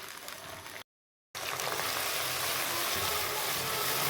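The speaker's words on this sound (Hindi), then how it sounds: "ऑयल गर्म हो चुका है, लहसुन और अदरक का पेस्ट ऐड करूँगी इसमें" Garlic and ginger paste frying in hot oil, a dense steady sizzle that cuts out for a moment, then returns loud and continuous close by.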